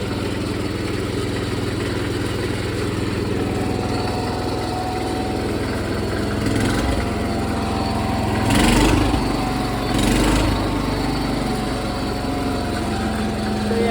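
John Deere 210 lawn tractor engine idling on 2-stroke fuel, a steady close putter with a couple of short revs toward the end, no talking.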